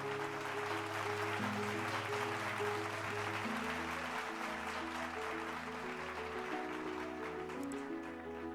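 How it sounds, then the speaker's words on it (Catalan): Audience applause at a university graduation ceremony, faint, steady clapping spread through a hall, partly masked by sustained, tonal background music playing throughout. "Si us plau, un fort aplaudiment per l'Oriol Pérez i la Paula Martí."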